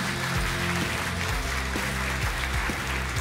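Steady applause from the audience at a comedy roast anniversary show, a continuous wash of clapping with a tonal hum running underneath.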